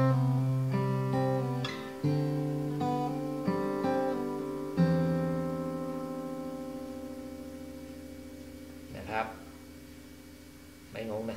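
Guitar plays the closing solo of a Thai song, a series of clear plucked and sustained notes that ring out and slowly decay, with a few quieter picked notes near the end.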